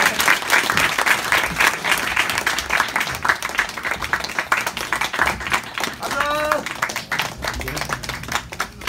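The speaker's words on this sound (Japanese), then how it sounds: "一緒のみんなに大きな拍手お願いします。" Audience applause at a live event in Japan, a dense steady patter of many hands clapping throughout, with voices and a brief whistle-like tone rising over it near the end.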